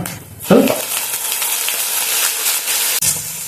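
Hot water poured into a sizzling pan of paneer jalfrezi, a sharp loud burst of hissing steam and sizzle that settles into a steady, dense frying hiss, briefly cut off near the end.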